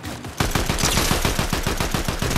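Fortnite gunfire erupts suddenly after a quiet start, a loud rapid burst of repeated shots firing in a steady rhythm for about two seconds, with no talking over it.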